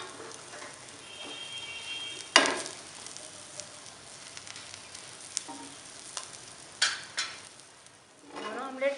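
An omelette frying in a pan, a quiet crackling sizzle broken by sharp clinks and scrapes of utensils against the pan, with a faint tonal hum early on and a brief rustle at the end.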